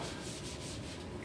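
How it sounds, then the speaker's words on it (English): An eraser rubs across a drawing on a board, giving a steady, close scrubbing sound that continues without a break and with no talk. "I'm going to erase this"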